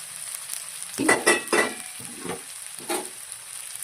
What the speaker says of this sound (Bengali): এবার আমি পেঁয়াজ কুচিগুলো দিয়ে দিচ্ছি, আর এই যে কাঁচা লঙ্কাটাও দিয়ে দিচ্ছি এর মধ্যে।